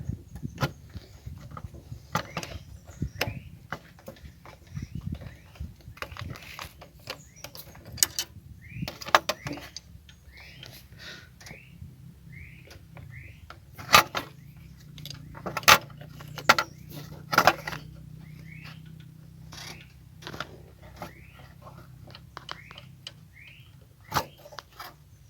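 A wrench loosens part of a motorcycle carburetor: repeated metallic clicks and taps of the tool against metal, close and irregular, with light handling clatter throughout and no talk.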